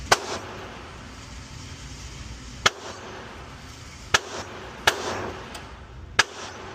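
An HK CC9 pistol fires at a shooting range, with about five sharp, fairly distant-sounding shots spaced unevenly over several seconds against a steady outdoor background.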